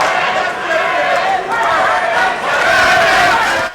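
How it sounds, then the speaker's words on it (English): Roaring boxing-fight crowd shouting and cheering at a match between Myron Taylor and Curtis Strong, a continuous swelling din heard with a commentator's voice over it. "You can hear the crowd in the background."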